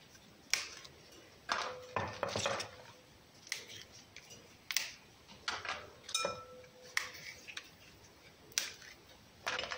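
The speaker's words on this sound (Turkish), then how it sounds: "İlk önce şu kılçıklarını ayıklayalım." Fresh pea pods are snapped and their strings pulled off by hand in a home kitchen: a steady series of crisp clicks and snaps, close and fairly quiet, spaced irregularly over a faint background hiss.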